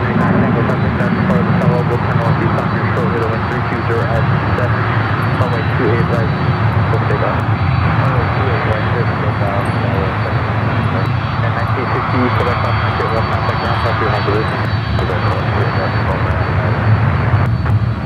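An airliner taxis on runway 1R at San Francisco International Airport, used as a taxiway, with a steady loud engine roar and whine throughout while a person talks over it.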